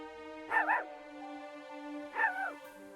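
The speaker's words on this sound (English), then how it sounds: "Forsaken Pup here is going to whimper" A forsaken pup enemy in the deckbuilder game Vault of the Void gives two short, high, whining whimpers about two seconds apart over a faint steady hum.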